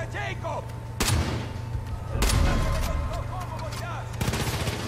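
Gunfire from the Far Cry 5 video game: several sharp, loud shots burst out in a short sequence, with game ambience and a steady low hum running between them.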